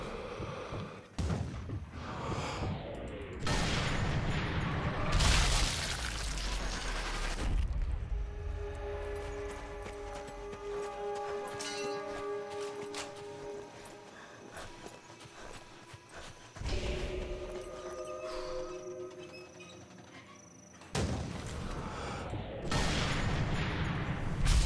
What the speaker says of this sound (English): cover your shots with the sounds of artillery fire, planes flying over by.